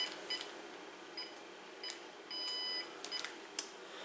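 Buttons pressed on a Uniden EXAI5680 cordless phone give short, faint electronic beeps, several separate tones spaced irregularly plus one slightly longer one, over a quiet background.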